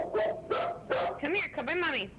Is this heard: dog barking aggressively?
yes